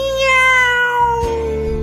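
A person's voice imitates a cat's meow, a single drawn-out, harmonic vocal call sustained for almost two seconds and fairly loud, with a slight shift in tone partway through.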